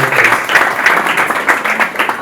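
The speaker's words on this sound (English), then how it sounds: "A round of applause for him, please." A brief burst of audience applause at a talk on maritime arts, dense steady clapping from a moderate crowd.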